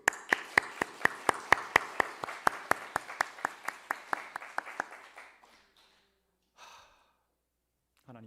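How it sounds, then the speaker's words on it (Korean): Congregation at a Korean church service clapping in a steady rhythmic beat, about two claps per second, fairly close, then fading out and stopping near the end, followed by brief breathy sounds. "그 하나님께 영광의 박수."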